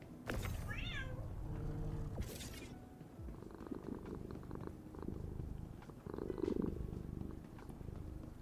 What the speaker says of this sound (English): Please excuse the cat.